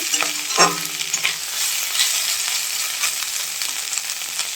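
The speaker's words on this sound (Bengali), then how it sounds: "ভালো করে নাড়াচাড়া দিয়ে একটু হালকা করে কষিয়ে" Dried kachki fish being stirred and fried in a pan, with a loud scrape of the spatula near the start and a steady sizzle with scattered clicks running throughout; no talking.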